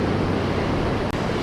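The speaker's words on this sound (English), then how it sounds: "the waves are like awesome" Ocean waves wash steadily onto the Oregon coast, a continuous broadband roar of surf with some wind buffeting, no voices and no break in the wash.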